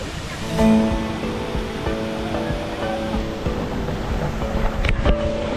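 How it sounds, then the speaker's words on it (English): Steady broadband rush of Millaa Millaa Falls fills the scene, with faint tonal hum and a couple of brief louder bursts near the end. "This is the famous Milla Milla Falls"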